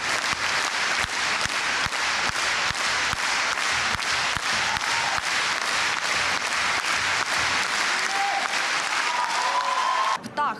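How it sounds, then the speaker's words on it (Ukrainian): Fans at a concert in Kyiv break into stormy applause, a thick, loud wash of many clapping hands that holds steady for about ten seconds before tapering, with a few brief tones near the end. "під бурхливі оплески фанатів концерт вдалося розпочати"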